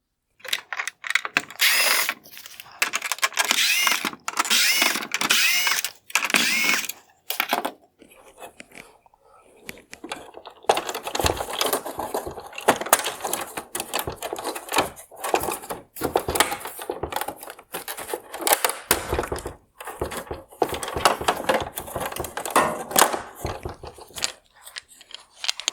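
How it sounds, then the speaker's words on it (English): Torx T20 screws being backed out of the outer black bezel on a 2021-2023 Chevrolet Corvette LED headlight with the lens cut off, a ratcheting driver clicking in bursts of mechanical rattle, close and fairly loud, with no talking. "I will start by removing the T20 screws holding on the outer black bezel."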